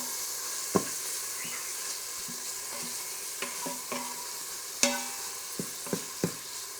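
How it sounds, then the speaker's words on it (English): Chopped bacon sizzles and fries in an Instant Pot, giving a steady soft crackle. Sharp stirring clicks and scrapes of a utensil against the pot sound at irregular intervals over it, and no voices are heard. "we're just gonna let this cook, get brown,"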